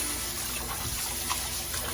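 Rice being rinsed in a bowl of water while preparing Jamaican rice and peas, a continuous close watery swishing and sloshing with no talk.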